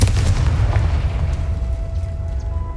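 A Confringo fire spell bursts in Hogwarts Legacy with a deep, loud boom that rolls into a sustained low rumble, a thin steady tone lingering above it, with no voices.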